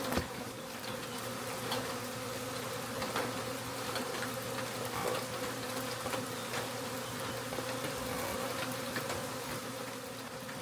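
A swarm of honey bees buzzes in and around a swarm trap as a dense, steady drone that fills the whole stretch, close and continuous with small fluctuations, and nobody speaks.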